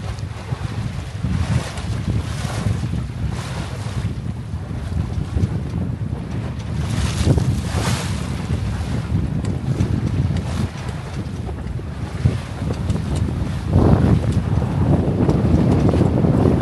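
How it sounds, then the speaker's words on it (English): Waves slap and thud against the hull of a Catalina 22 sailboat under a reefed main as it pounds through chop in gusty wind, with a continuous wind roar and several heavier hull impacts near the end. "Starting to pound a little bit now."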